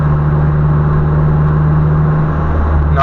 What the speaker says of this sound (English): Literally going through a cruise through town without using the clutch,